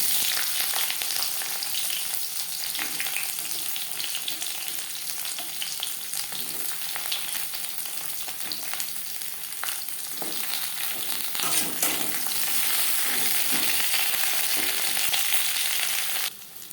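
Pointed gourd sizzles steadily in hot mustard oil in a pan while being stirred, a continuous close frying crackle with scraping stir sounds and no voices.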